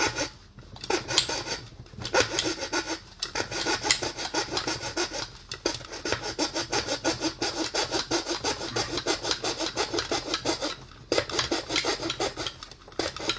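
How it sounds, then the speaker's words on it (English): A small hacksaw cuts steadily with rapid back-and-forth rasping strokes, close and continuous, broken by a few short pauses, during a Ryobi battery conversion of a Lagenda balloon pump. "I made it work with just that little weird hacksaw thing"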